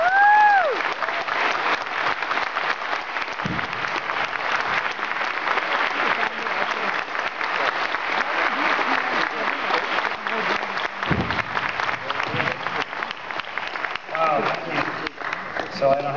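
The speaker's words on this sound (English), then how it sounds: "please join me in a huge round of applause for Dr." A large audience applauds for a long stretch at a skeptics' talk as a speaker is introduced, a sustained, even roar of clapping with brief cheers and whoops rising near the start and the end.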